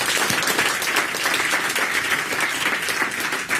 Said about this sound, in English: So round of applause for this gang.